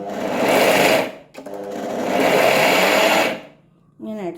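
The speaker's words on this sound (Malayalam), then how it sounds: "മിക്സി ഒരൊറ്റയടിക്ക് തിരിച്ചു കൊടുക്കുകയും ചെയ്യരുത്. ഇങ്ങനെ കുറേശ്ശെ ഇങ്ങനെ ഓഫാക്കി" A mixer grinder coarsely grinds lentils in short pulses: a loud whirring burst, a brief pause, a longer burst, then it stops, followed by a short rattle.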